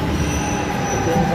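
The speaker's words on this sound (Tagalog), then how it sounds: "So yun, nandito na yung train." Light rail transit train pulling into a station with loud, sustained metal wheel squeal over rumbling carriage noise, close by and continuous throughout.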